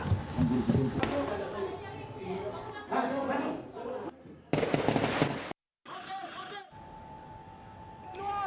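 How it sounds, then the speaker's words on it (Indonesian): Sharp cracks of gunfire, reportedly from separatist armed groups in Papua, pop out amid background noise and voices, with sudden cuts between stretches of sound. "Terdengar tembakan yang diduga dari kubu kelompok separatis dan teroris Papua."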